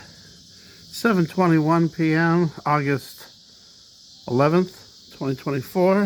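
Cicadas drone faintly off in the background near 7:21 pm on an August evening, a steady high continuous buzz running under a man's close speech throughout.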